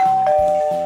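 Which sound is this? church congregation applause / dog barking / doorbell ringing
doorbell ringing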